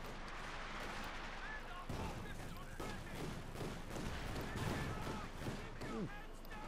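Bursts of .50 caliber machine-gun fire and other battle gunfire from a Company of Heroes 2 match, with a Sherman tank on the field. The shots repeat steadily and sound fairly faint and distant throughout.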